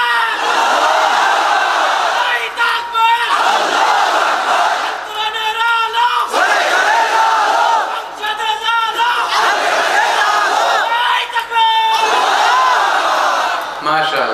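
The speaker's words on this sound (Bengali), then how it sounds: "তাকবীর পড়েন তো দেখি, আল্লাহর নামে পড়েন, লিল্লাহি তাকবীর" A large crowd at a sermon loudly chants takbir in repeated roaring waves, many voices shouting together in a steady rhythm.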